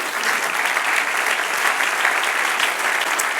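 A church congregation claps in loud, dense, sustained applause filling the room throughout, with no speech standing out.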